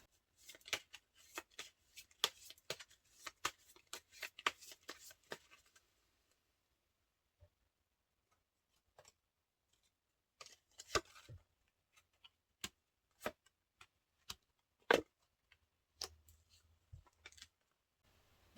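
Tarot cards being shuffled in bursts of soft papery riffles and flicks, then a few separate sharp snaps and taps as single cards are drawn and laid down, close and quiet with pauses of near silence between.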